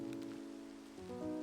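Steady in-game rain in Minecraft, a soft continuous hiss, with background music tones layered over it throughout.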